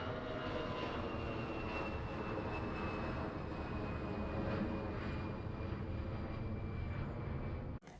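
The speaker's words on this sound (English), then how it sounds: "I have measurements from two different aeroplanes, both time a binaural recording with an artificial head" An aeroplane passes overhead in a steady, broad engine roar, captured binaurally with an artificial head; the drone holds constant for about eight seconds with a faint rising tone, then cuts off abruptly at the end.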